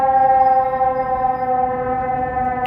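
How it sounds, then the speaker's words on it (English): A loud, steady wailing Chicago Fire Department ladder truck siren on a city street at noon, held on a sustained tone, close by and continuous for the whole stretch with no voices. "Always sirens, always sirens."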